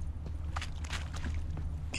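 Running footsteps of a character moving along a riverbank in The Witcher 3: Wild Hunt, a quick series of soft, close steps with a faint crunch over steady background game ambience.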